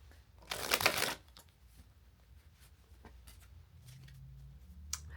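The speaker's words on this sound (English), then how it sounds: "I'm gonna shuffle the deck first." A deck of cards is riffle-shuffled once in a quick, loud burst of rapid fluttering clicks lasting about half a second, followed by quiet faint handling taps and a low room hum.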